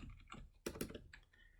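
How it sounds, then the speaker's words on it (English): Typing on a computer keyboard while coding, a short run of crisp close key clicks with two sharper strikes in the middle, quiet and without talk. "I've got to learn to type with this keyboard."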